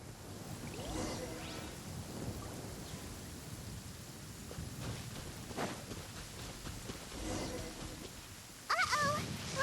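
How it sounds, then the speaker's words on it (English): Thunderstorm with lightning in the video game Genshin Impact: steady rain hiss with rumbling thunder rolls, a sharper crackle near the end, and a voice talking over it. "Uh-oh! Lightning storm!"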